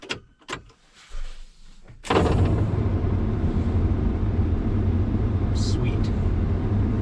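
A few sharp mechanical clicks and clunks come first, then the repaired blower motor in a Peterbilt 352 cabover truck switches on to a loud, steady, close whoosh that runs unbroken to the end.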